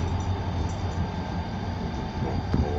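A Mugunghwa train rides along the Mokpo Line, heard from inside as a constant, even rumble of wheels and carriage with a faint click near the end.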